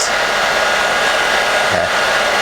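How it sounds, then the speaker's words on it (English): A hair dryer blows steadily at close range while melting crayon onto a pumpkin, a loud continuous whooshing hum with one brief dip in pitch partway through. "So you can tell that the hair dryer is warmed up quite a bit."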